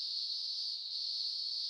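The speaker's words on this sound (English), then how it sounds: "That'd be a cicada. Good choice. Is exactly the sound a cicada makes." Steady, high-pitched electronic cicada drone from the Windows 3.1 video game Blinky Bill's Ghost Cave, an even, continuous buzz with no pauses, heard alone.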